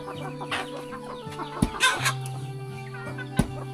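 Chickens cluck in a village deep in a rural Lao mountain valley, with short, close clucks scattered over a steady background of other farmyard sounds.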